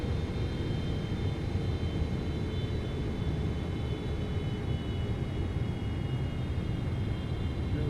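Airliner engine drone in a flight simulator game during the flaps-30 approach, a steady dense roar with a faint high whine on top, unchanging throughout.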